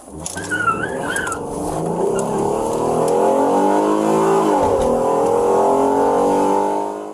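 A car engine revs up and pulls away steadily, loud and close at first with rising engine pitch, a brief squeal-like tone early on, the roar sustained then fading slightly near the end with no talking.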